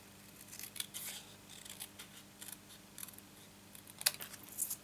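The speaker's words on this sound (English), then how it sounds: "what I'm going to do is just cut this one in half" Scissors slice a piece of cardstock in half for layered card-making, giving a series of soft, close snips and a sharper crunch near the end.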